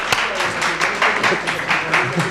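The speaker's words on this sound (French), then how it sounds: "Je les applaudis." Audience applause for four boys and a girl from lycée Turgot at a French TV cinema show, a steady patter of clapping with rhythmic swells, carrying over a brief exclamation near the start.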